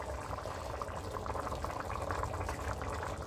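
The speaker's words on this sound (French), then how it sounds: "je vais mettre un peu de bouillon dans mon pondu comme ça" Broth poured into cooking pondu (cassava leaves) with smoked fish and shrimp, a steady, soft liquid wash with a low simmering rumble underneath and no voices.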